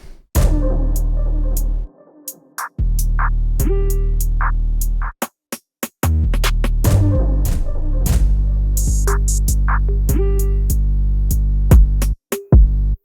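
Full hip-hop beat with all the drums in, heavy 808 bass booming under hi-hats, snare hits and melodic layers, loud and continuous with a couple of brief drop-outs and a cut near the end.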